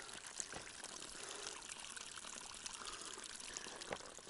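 Cold snowmelt water trickles and pours in a small mountain stream on the trail into Mount Rainier National Park, a continuous faint gurgling wash with no one talking.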